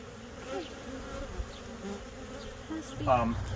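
A swarm of aggressive killer bees at a hive makes a steady, close buzzing drone throughout, with individual bees whizzing past and a louder burst near the end.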